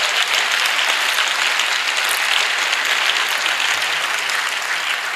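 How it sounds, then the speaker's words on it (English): A large congregation at a pastor's birthday public lecture applauds loudly and continuously, a dense, even roar of many hands with no breaks throughout. "Let's give the Lord another round of applause."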